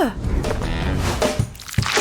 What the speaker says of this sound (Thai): เทน้ำผึ้งลงในกระป๋องแฟนต้า มันหกนิดหน่อยไม่เป็นไรหรอก